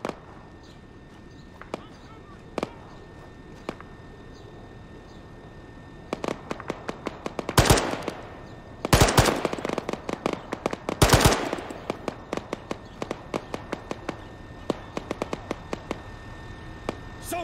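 Gunfire in a combat game: scattered single shots, then dense bursts of automatic fire and a few loud close blasts, tapering back to sporadic cracks, with voices speaking amid the shooting.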